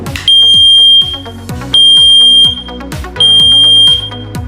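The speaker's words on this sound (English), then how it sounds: "Now, let's test the sound." A standalone battery-powered smoke detector sounds its test alarm: three loud, piercing high-pitched beeps, each about a second long, separated by short gaps and heard close up.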